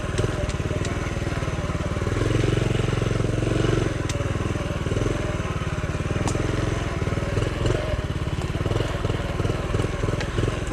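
A small Honda Trail CT70 motorcycle engine works hard on a woods trail, a close, steady buzzing putter that holds on at constant loudness with some clatter over it.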